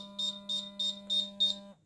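An Arduino-built blind-assist stick sounds its buzzer alarm when the ultrasonic sensor detects an obstacle: five short, evenly spaced high beeps over a steady electrical hum, close and fairly quiet.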